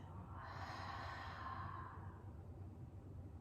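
A long, soft breathy exhale during a slow-flow yoga practice, lasting a couple of seconds and then trailing off into quiet room hiss; close and gentle, with no talking.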